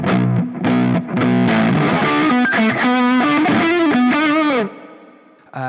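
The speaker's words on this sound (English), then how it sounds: "if I just get a ridiculous amount of gain going, you can hear there's no hiss because of the gate." An electric guitar run through heavy fuzz gain with a noise gate and reverb, loud sustained distorted notes and chords with a bending lead line, cutting off abruptly into a short reverb tail.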